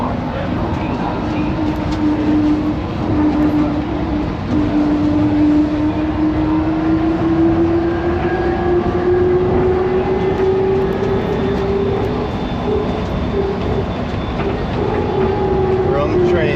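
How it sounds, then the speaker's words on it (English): Loud, steady rumble of a moving train in Guadalajara, heard from on board, with a sustained droning hum that slowly rises in pitch, continuous throughout. "We're on the train. It's pretty loud."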